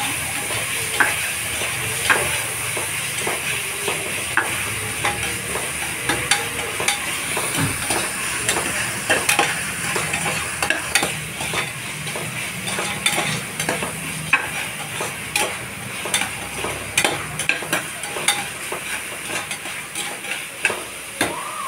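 Tomato sautéing in a pan, with a loud continuous sizzle and frequent stirring scrapes and clinks that repeat irregularly throughout.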